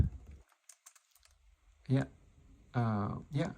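A handful of quick, light keystrokes tap on a computer keyboard in a quiet room, faint and closely spaced, followed by someone talking.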